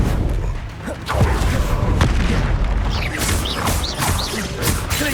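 In Hogwarts Legacy combat, a Descendo spell slams an enemy down with a heavy booming impact and crashing debris, amid whooshing spell effects and other game noise, with a voice speaking briefly.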